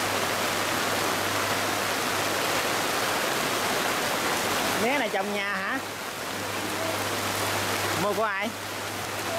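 Steady broadband rain pours down at a roadside drink stall in the Mekong Delta countryside, loud and continuous throughout, with a low electrical hum beneath and two brief stretches of people talking near the middle and end.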